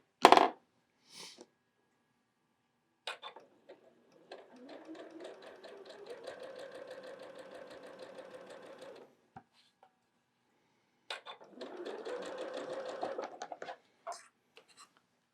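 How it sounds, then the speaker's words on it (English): A sewing machine stitches across a quilt block in two steady whirring runs, close up, with clicks and small handling noises before and between them. "So now I'm going to sew right across there."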